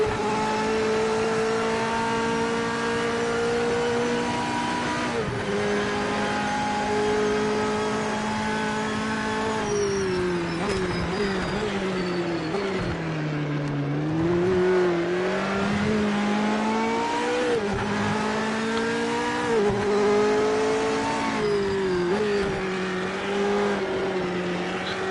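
A Japanese GT500 race car in a racing video game revs loudly and continuously, its engine note rising and falling through gear changes and throttle shifts, with occasional tire squeal, heard up close and alone for the whole stretch.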